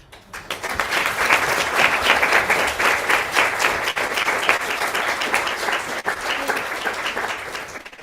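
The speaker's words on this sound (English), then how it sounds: "ask for a round of applause" An audience at an academic anthropology seminar breaks into a sustained round of applause, dense and steady clapping that swells quickly and holds strong before tapering near the end.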